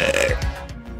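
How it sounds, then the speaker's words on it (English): A single deep, drawn-out burp from a woman on a livestream, loud and close, with no talk over it. "they make me burp like crazy"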